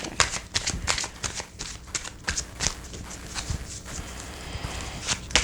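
Cards are shuffled in quick riffling bursts, a series of sharp papery flutters and taps close up, with little else around.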